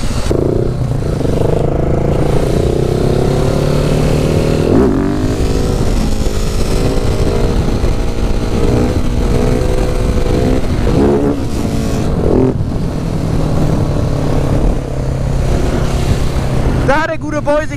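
Motorcycle engine revving hard as the rider tries a wheelie, a loud close onboard drone that shifts pitch up and down, with someone talking over it throughout.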